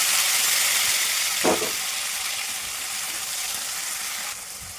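Chopped onion frying in a pan with turmeric and salt for a ridge gourd and dried prawn egg curry, giving a loud, steady close hiss and sizzle with a brief stirring clatter.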